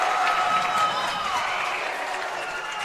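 A high school basketball crowd cheering on senior night, a sustained roar that fades gradually as a commentator talks over it.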